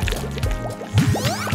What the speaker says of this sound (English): But we might need a quick shower.